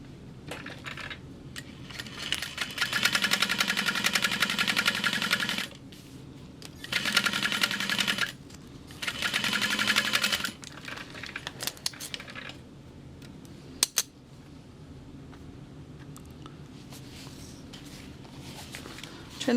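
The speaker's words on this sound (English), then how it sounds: "And we're going to sew that with a 3/8 inch seam allowance." A sewing machine stitches a bag lining with a 3/8 inch seam, its steady whirring buzz running in several long bursts separated by short pauses, with faint handling clicks between runs.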